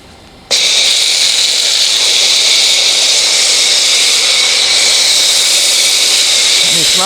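Harbor Freight foam cannon cranked to full, spraying soap in a loud, steady hiss that starts abruptly and holds continuously for several seconds.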